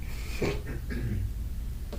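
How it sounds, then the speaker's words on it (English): A man in the audience at a public meeting clears his throat with a few short, rough rasps and snorts close by, followed by a small breathy catch. "You're just clearing your throat."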